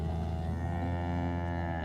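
A single cow lets out one long, loud, low moo that holds steady for nearly two seconds, heard close and on its own with no talking.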